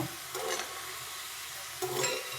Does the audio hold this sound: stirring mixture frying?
yes